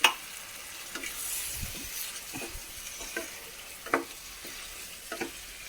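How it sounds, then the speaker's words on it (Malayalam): A spatula stirs and scrapes through fried fish pieces in a pan, with a soft, steady sizzle and a few sharper knocks against the metal. "മീൻ വറുത്തത് ഇട്ട് കൊടുക്കാം. നന്നായി ഇളക്കി കൊടുക്കാം."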